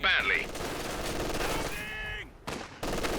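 MG team machine gun fire in a Company of Heroes 2 battle, rapid bursts of gunshots amid other combat noise, with a commentator talking over it.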